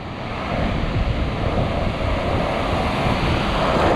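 Steady roar of surf breaking on a beach while an east wind buffets the microphone, a dense continuous wash of wind and waves, loud and close, no voices.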